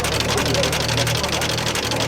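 The 6.8 litre V8 of a 1920s Lincoln idles low and steady, a continuous rumble heard from nearby amid outdoor background noise.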